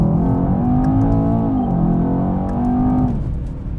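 A Mercedes E63 AMG with a 4-litre biturbo V8 pulls hard under acceleration, its deep engine drone rising steadily in pitch through the gear, heard close from inside the car before easing off near the end.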